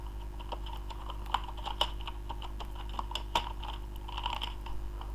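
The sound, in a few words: typing on a computer keyboard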